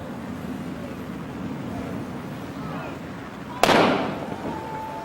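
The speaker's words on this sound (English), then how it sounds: "And Rob, you can almost feel with the firing of the cannon, the intensity steps up again." A starting cannon fires the ten-minute signal before the 2013 Sydney Hobart yacht race, a single sharp loud boom that cuts through steady harbour and boat noise, then rumbles away. A commentator's voice carries underneath.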